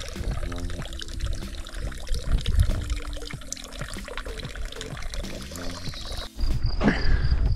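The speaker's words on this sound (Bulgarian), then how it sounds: "се натъквам на една чешмичка" Water pours steadily from a mountain drinking fountain on a summer hike, a continuous splashing stream that sounds close and fairly loud and breaks off briefly near the end before resuming.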